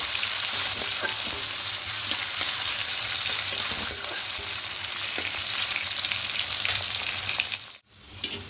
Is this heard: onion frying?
yes